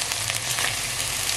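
A steak fries in a pot with a dense, even sizzle and crackle, close and loud for a short moment with no voices.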